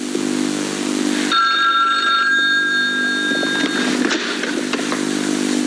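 An old-style telephone bell rings loudly and steadily in a TV drama scene, a continuous trilling ring that runs alone for several seconds with no talk over it.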